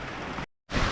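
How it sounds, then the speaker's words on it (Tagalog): Heavy rain pours down during a storm on a rural farm, a loud, dense hiss that cuts out briefly to silence and then returns just as strong. "Maulan."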